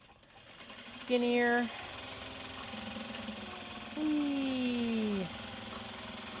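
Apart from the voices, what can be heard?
sewing machine stitching Japanese fabric bag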